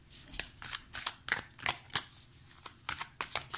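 Oracle cards are shuffled by hand, a rapid run of crisp riffling bursts about every third of a second, close and fairly quiet, with no voices.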